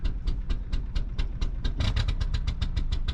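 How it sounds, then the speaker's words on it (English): A Toyota Hilux SR5 pickup engine runs with a misfire, giving an uneven, rapid pulsing chug that stays close and steady throughout with no talking. "Misfiring like crazy."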